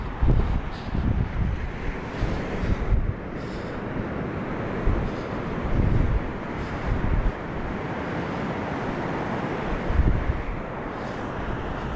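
Wind buffets the microphone at the seashore while waves and surf wash in with a steady rushing roar, swelling in gusts every few seconds, with no voices heard.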